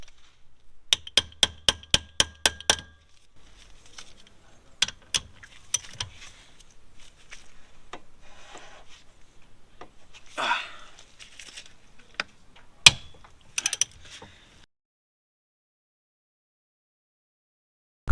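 Rear-end bolts on a BMW E30 are worked loose, giving sharp metallic ratchet-like clicks in a quick run, then scattered clanks, rattles and knocks of tools, close and fairly quiet, without speech.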